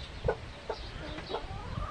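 Backyard hens clucking close by, several short separate clucks spread across a couple of seconds over a low rumbling background.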